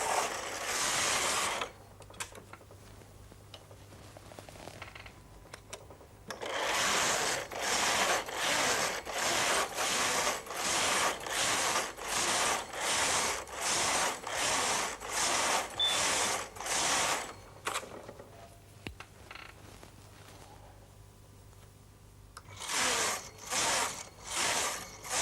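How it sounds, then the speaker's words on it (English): A Brother Electronoknit 950i knitting machine knits a pattern, its carriage making repeated loud mechanical sweeps in a steady back-and-forth rhythm with brief pauses between passes and a low motor hum underneath. "The machine's telling us it's ready to start knitting the pattern at row 1."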